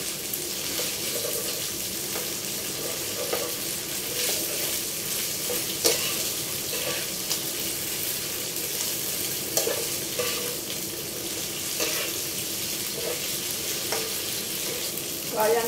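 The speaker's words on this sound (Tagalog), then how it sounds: "i-halo ko na siya sa pansit" Fried noodles with crab stick being stirred in a pan, with a steady sizzle beneath repeated scraping and clinking strokes of the utensil, moderately close and without talk.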